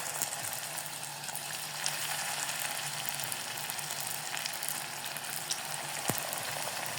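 Filled samosas fry in hot sunflower oil, giving a soft, even bubbling sizzle throughout with a faint clink or two, quiet and close, no voices.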